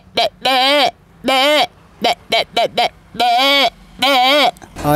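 A voice imitates goats bleating, nanny and billy, with a series of close, loud, wavering bleats, some long and quavering and some short and clipped, in quick succession.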